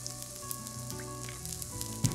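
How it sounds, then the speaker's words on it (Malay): Takoyaki balls frying in oil in a takoyaki pan, a soft steady sizzle with faint crackles and a brief louder pop near the end, close up and quiet. "Pada waktu ni, kita masak sampai permukaan luar yaki jadi garing."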